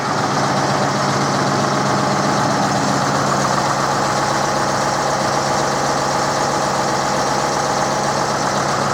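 A Ruston Bucyrus 22 RB excavator engine runs steadily after a cylinder head refit, a loud, continuous diesel idle with an even knocking pulse throughout and no talk.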